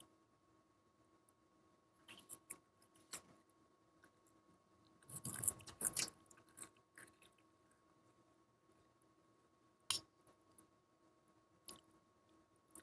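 Crunchy food chewed by someone wearing dentures, close to the mouth: scattered soft crunches and squishy bites at irregular intervals, with a denser burst of chewing midway, all faint against a quiet room.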